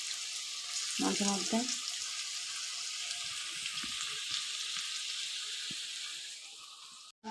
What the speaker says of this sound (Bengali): পকোড়াগুলো ভেজে নিচ্ছি।